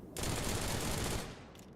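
A short, loud burst of rapid gunfire in Starfield, shots fired straight up in a dense rattling volley that tapers off after about a second.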